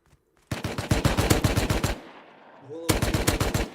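Rapid bursts of automatic gunfire in the video game Rust, two loud volleys separated by a short lull with a faint electronic whine.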